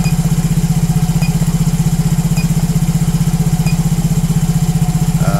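Yamaha motorcycle engine idling steadily during a scanner diagnostic test as fuel is added, a loud even rapid putter close by with no change in pace and no speech.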